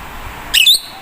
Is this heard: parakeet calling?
yes